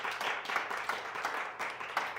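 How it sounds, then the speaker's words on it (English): An audience claps at a talk show, a dense, steady patter of many hands sustained for a couple of seconds at moderate distance, with no talking. "I really like that you guys clap for that."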